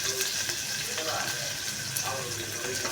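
Whole spices such as cinnamon fry in hot oil inside a pressure cooker, giving a continuous, dense crackling hiss that holds steady for the full three seconds.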